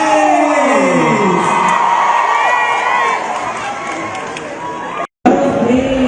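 A loud concert crowd cheers and screams continuously for a singer at a concert, a dense sustained roar that dips briefly and then surges back.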